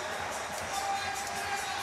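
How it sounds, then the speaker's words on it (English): A packed athletics stadium crowd cheers and applauds Italy's men's 4x100m relay winners at Rome 2024, a steady, dense roar of voices and clapping that swells slightly midway and stays loud throughout. "they're going to be milking, quite deservedly, the applause of the crowd"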